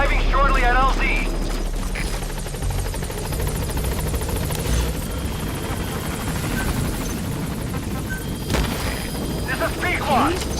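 Helicopter arriving at a landing zone in Metal Gear Solid V: The Phantom Pain, a loud continuous rotor drone and engine roar throughout, with a voice talking over it at the start.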